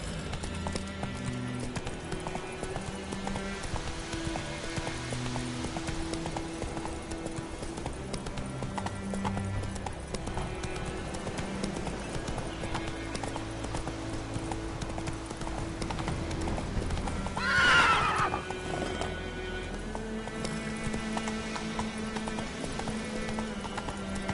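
A ridden horse clip-clops steadily along at an even trot, with a short louder burst near the end that may be a neigh, all over a bed of background music.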